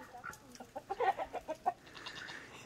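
A backyard flock of chickens cluck close by in a quick run of about eight short, rhythmic calls, with quieter fowl chatter fading out afterward.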